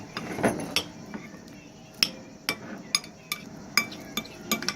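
A spoon stirs Nesquik slime in a bowl, giving sparse, irregular clinks and taps of metal against the container, close and fairly quiet, with soft background voices.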